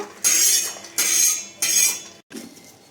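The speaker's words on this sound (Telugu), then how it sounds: "ఇప్పుడు నేను పల్లీలు ప్యాన్ పై నుండి తీసేస్తున్నాను" Roasted peanuts being taken off a pan for homemade peanut chutney: three bursts of metallic scraping and clinking, close and fairly loud, separated by short pauses, ending with a softer clink.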